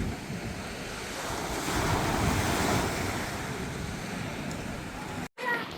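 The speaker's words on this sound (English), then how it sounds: "I do love the sound of the waves." Ocean waves rolling onto the beach at Torquay on a rainy day, a steady broadband wash of surf mixed with wind buffeting the microphone, continuous and fairly loud before cutting out briefly near the end.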